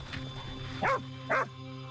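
An avalanche rescue dog gives two short, close barks about half a second apart, over a steady low hum in a snowy outdoor setting.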